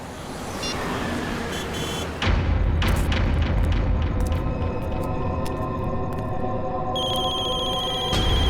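Office telephones ringing with many incoming calls at once, repeated bright electronic rings layered over a dense background din after a sudden loud onset, continuing steadily to the end.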